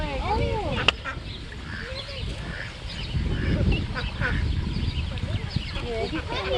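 Ducks quack among other birds at the Maui Tropical Plantation, the calls coming and going amid outdoor rustle while people talk nearby.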